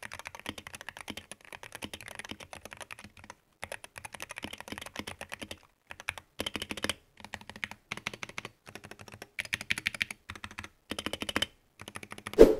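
Rapid typing on a Wooting 60HE mechanical gaming keyboard with Gateron X Lekker switches: close, crisp key clacks in dense bursts separated by short pauses, with a louder final strike and no voices.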